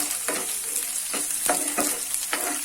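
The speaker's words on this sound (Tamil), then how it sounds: "பூண்டு நல்லா வறுப்படட்டும்." Garlic frying in oil in a pan for garlic dosa, with a steady close sizzle broken by several regular stirring scrapes and no talking.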